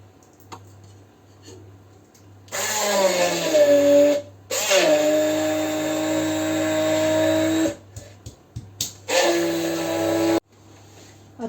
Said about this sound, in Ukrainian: І збиваю, блендерую.